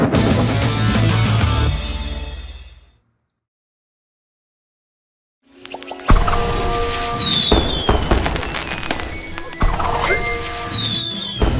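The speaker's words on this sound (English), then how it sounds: "And look at all the fireworks." Animated fireworks in a Thomas the Train cartoon: dense crackling bursts and booms, then a silent gap before more loud pops, whistling rockets and crackle fill the rest.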